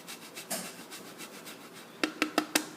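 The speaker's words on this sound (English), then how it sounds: "we're going to grind some of the Romano cheese in" Romano cheese is grated by hand: a soft, continuous rasping at first, then four sharp, evenly spaced scraping strokes near the end, close and clear with no talk.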